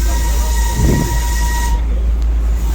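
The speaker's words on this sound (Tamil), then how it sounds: "சிட்டிக்குள்ள அப்படி போக ஆரம்பிச்சிச்சு கொஞ்சம் ஃபாஸ்ட்டாக போக ஆரம்பிச்சிச்சு ட்ரெயின்" The Darjeeling toy train runs loudly and close, a continuous heavy rumble of wheels and carriages as it picks up speed, with a brief rise in clatter early on.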